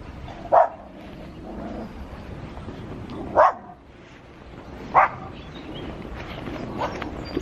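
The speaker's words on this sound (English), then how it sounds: "Sounds like an angry dog, run." A dog barks three times, sharp single barks spaced a few seconds apart, somewhat distant over a noisy outdoor background.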